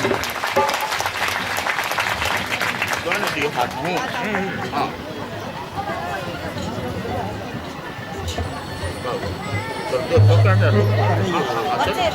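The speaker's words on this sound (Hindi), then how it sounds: "जोरदार ताली, जोरदार ताली।" Audience claps loudly in a hall while voices murmur and chatter under the applause, which swells and fades unevenly and ends with a brief louder burst near the end.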